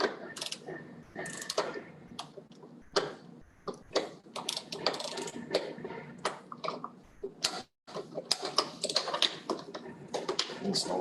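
A torque wrench tightening fittings on a water filtration unit, with dense irregular mechanical clicks and clacks of tools and parts, close by, with no voices.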